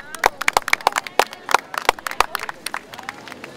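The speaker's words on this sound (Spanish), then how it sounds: "pues un aplauso por favor para las palabras" Guests clapping at a celebration, a handful of sharp, separate claps in a loose uneven rhythm that gradually thin out and fade toward the end, fairly close with a faint room murmur beneath.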